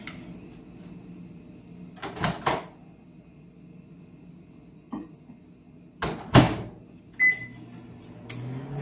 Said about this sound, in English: now I'm going to put this in the microwave for about 5 minutes